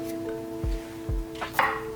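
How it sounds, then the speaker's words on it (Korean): A knife cuts trimmed oyster mushrooms in half on a cutting board, giving two soft, dull thuds followed by a couple of brighter scraping knocks. The cuts are close and isolated against a steady background hum, with no talking. "다듬송이버섯은 너무 길지 않게 반으로 썰어주세요."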